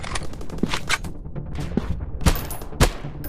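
Gunfire in a counter-terrorist first-person shooter game: several sharp, loud single shots at irregular intervals over a steady background of game noise.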